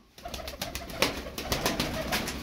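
Tumbler pigeons coo softly in a soft, repeated rhythm close by, with faint rustling around them and no talk.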